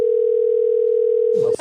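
Steady single-pitch telephone tone on an outgoing call, loud and continuous for about one and a half seconds before a brief burst of noise cuts in at the end.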